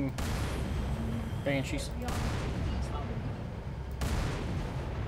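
Gunfire in the video game Halo 3, a dense continuous battle din of shots and booms with sharp bursts near the start and around four seconds, heard under people talking.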